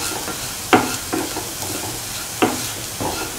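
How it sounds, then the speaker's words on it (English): A spoon stirs ground spice mixture, mustard seeds and other ingredients into potatoes for a potato pickle, giving soft scraping with a few distinct knocks against the bowl at a slow, uneven rhythm over faint background hiss. "Mix the ground mixture with the potatoes and the rest of the ingredients, mustard seeds and others."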